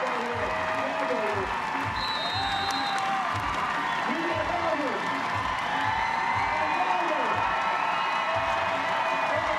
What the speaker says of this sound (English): the crowd making plenty of noise now for the USA